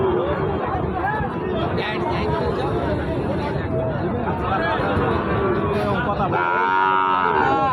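Cattle, including Sahiwal and Gir breeds, moo repeatedly amid a busy cattle-market crowd, with people chattering, bargaining and calling out throughout.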